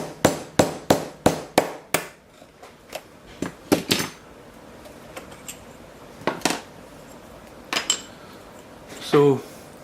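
A wooden dowel insert is split with sharp tool strikes. A quick run of six evenly spaced knocks comes first, then scattered single cracks and taps, close and fairly quiet, with a brief vocal sound at the end.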